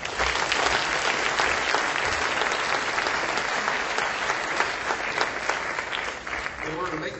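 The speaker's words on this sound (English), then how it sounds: "Please join me in a big round of applause for all of the award winners tonight" Audience at an awards ceremony applauding the award winners, steady dense clapping filling the room for several seconds at full volume, with a voice faintly under it.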